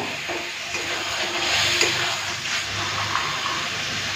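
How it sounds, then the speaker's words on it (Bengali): Water is poured into masala frying in a pan while cooking a Bengali fish curry. A steady hiss and sizzle swells and then settles, with faint stirring scrapes and no voices. "সামান্য একটুখানি জল দিয়ে দিচ্ছি"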